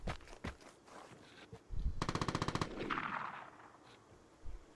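A rapid burst of automatic gunfire in a video game rattles out near the middle, a string of evenly spaced shots preceded and followed by scattered single pops and game noise.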